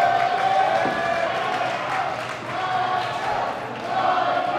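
Wrestling crowd cheering at a pro wrestling main event, a loud continuous roar of voices that swells and dips, with commentary talk over it.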